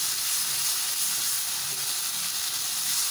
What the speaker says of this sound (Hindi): अब इसमें हमने मसाला डाला है, हल्दी और नमक और मिर्चें। इनको अच्छी तरह भूनेंगे।